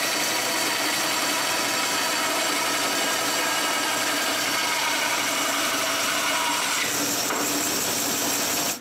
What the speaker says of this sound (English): The rest is done with the bandsaw.